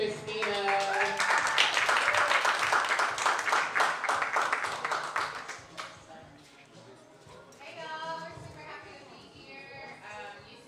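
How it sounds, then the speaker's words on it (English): Live audience at a Black Power Brunch clapping for two performers, a dense burst of applause lasting several seconds before fading out as a voice talks over it. "give a round of applause for Injera and Christina"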